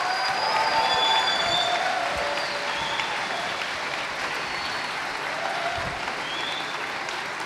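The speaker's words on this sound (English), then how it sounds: "Let's hear a warm round of applause for all of us here present." A sustained round of audience applause at a teach-in gathering, steady dense clapping from a large crowd that holds roughly even in loudness throughout, with a few faint voices.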